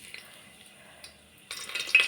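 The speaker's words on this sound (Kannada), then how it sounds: "ಒಗ್ಗರಣೆಗೆ ಚಕ್ಕೆ, ಪಲಾವ್ ಎಲೆ ಹಾಕ್ಕೊಳ್ತಾ ಇದ್ದೀನಿ." Cinnamon and bay leaf hit hot oil for tempering while cooking mushroom biryani, giving a sudden burst of sizzling and crackling after a quiet moment, loud and close, with no talk.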